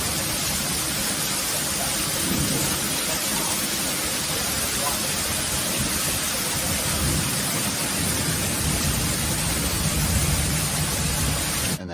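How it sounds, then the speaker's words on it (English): Hurricane wind lashes rain about in a dense, roaring wash of noise that stays loud and unbroken throughout, with gusty surges and no clear voices. "here's some footage of this terrible, terrible hurricane. It was blowing this rain around."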